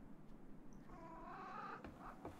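A cat in a video game gives a faint, wavering meow in the middle, half buried under a steady hum of game ambience and a few light clicks.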